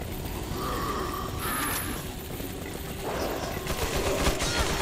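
Gunfire in Resident Evil 4 during the Assignment Ada mode, with shots punching through walls as steady rattling fire and mechanical clatter that runs continuously under a dense, noisy game backdrop.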